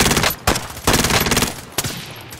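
Rapid bursts of automatic gunfire in a military video game, loud and close, firing in several sustained volleys broken by short pauses, with no voices over them.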